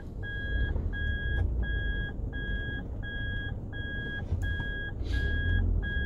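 Repeated electronic reversing beeps sound from a car backing up, nine evenly spaced two-tone pulses at a steady rhythm over low engine and road rumble, with no talking.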